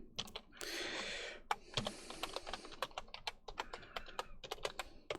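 Steady typing on a computer keyboard, with rapid, crisp key clicks close up and a brief flurry of faster keystrokes, no talking.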